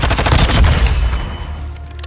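A Vaznev-9K submachine gun fires in Modern Warfare 2, a loud rapid automatic burst of about a second that cuts off into a fading echo and low rumble.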